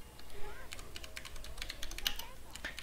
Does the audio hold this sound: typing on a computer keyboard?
yes